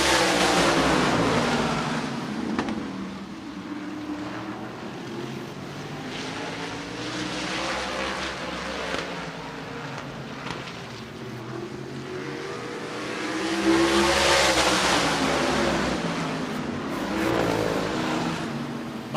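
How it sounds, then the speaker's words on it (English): Race cars roar around Redwood Acres Raceway in a loud, continuous engine drone. The pitch rises and falls as the cars pass, and a pack swells especially strong midway through. "These guys are loud. I thought I had a loud voice, but these cars are super loud."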